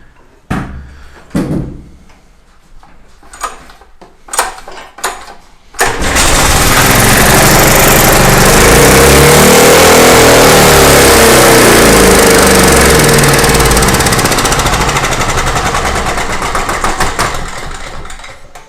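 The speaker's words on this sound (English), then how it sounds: "That thing is over revving like crazy" A faulty generator engine with a bad governor is pulled over several times with sharp cranking tugs, then catches and roars loudly at a constant racing pitch, overrevving hard before tapering slightly.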